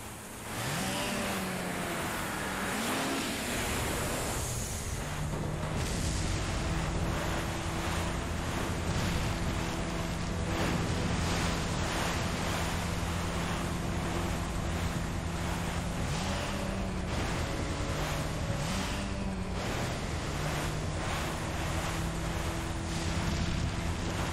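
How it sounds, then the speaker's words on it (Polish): A wave surges in the wake of an explosion in Resident Evil 4, a loud continuous roar of rushing water with tonal game sound layered through it, sustained and unbroken for the whole stretch. "ta fala po wybuchu nas zatopiła"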